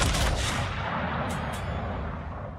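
Naval gunfire in World of Warships during a long-range shot at the Venezia: a dense, sustained rumble of heavy cannon blasts with booming low end, followed by two short, sharp high-pitched bursts, loud and without voices.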